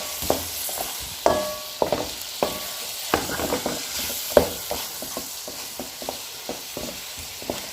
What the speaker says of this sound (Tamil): அந்த சிக்கனை சேர்த்துக்கலாம் அதையும் சேர்த்தாச்சு இப்போ அதை நல்லா சிக்கனோட சேர்த்து கிண்டி வச்சுக்கலாம்